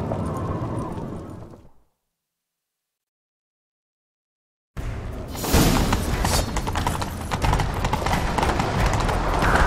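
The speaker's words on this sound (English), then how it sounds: "Grab a horse, we'll chase him down." After a brief sound and a few seconds of silence, rapid galloping horse hooves in the video game The Witcher 3 pound loudly and continuously up close.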